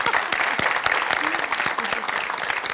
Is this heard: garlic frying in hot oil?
no